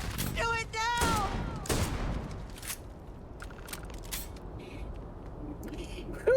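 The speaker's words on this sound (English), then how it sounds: "this shotgun did the work" Several sharp shotgun blasts from the Starfield video game ring out early, followed by quieter scattered clanks and mechanical clicks, with a loud burst closing the moment.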